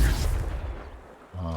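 A Confringo blasting spell in the Hogwarts Legacy video game: a loud, booming explosion that rumbles and fades over about a second, followed by a short tonal game effect. Speech may overlap it.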